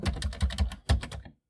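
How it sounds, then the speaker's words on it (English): Keys clack on a Commodore computer keyboard, C64 or VIC-20, in a quick burst of about a dozen close, crisp strokes with a short pause partway through before the last few taps. "we'll try typing in something like 6 again"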